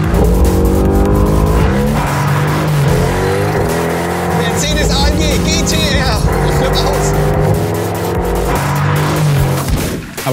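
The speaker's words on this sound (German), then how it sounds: "wir haben jetzt schon 180 drauf. Mercedes AMG GTR." Mercedes-AMG GT R driven fast on a race track, engine roaring loud and continuous with rising and falling revs and shifts, tires squealing at moments, while people talk over the noise.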